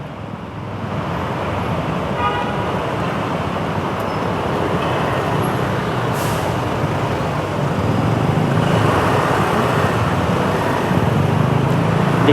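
Dense road traffic crawls up the Skyway Stage 3 southbound on-ramp, a continuous broadband roar of car and bus engines with occasional faint horn toots, steady and fairly loud without talk.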